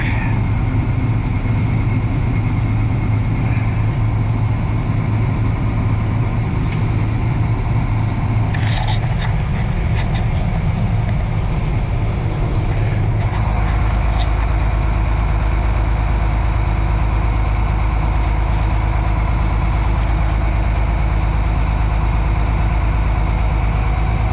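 Diesel idle of a Ford L8000 truck with a Cummins engine, a steady low rumble running alone throughout, with a brief rattle midway before the idle settles deeper and louder.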